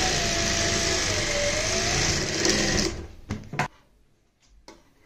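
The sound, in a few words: sewing machine stitching a blouse pleat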